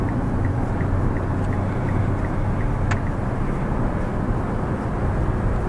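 Steady engine and road drone from a Mitsubishi Xpander Cross accelerating to overtake at high speed on a highway, a continuous low rumble with wind and tire noise and no talking.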